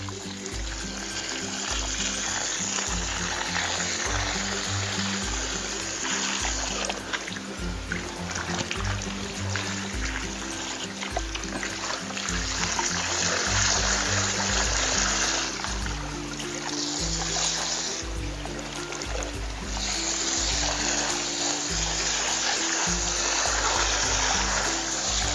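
A garden hose sprays water steadily onto plants over an aquaponic catfish pond, giving a continuous hissing splash with faint low background sounds.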